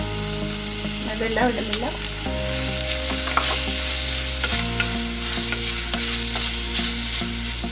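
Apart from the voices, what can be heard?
onions frying in coconut oil in a clay pot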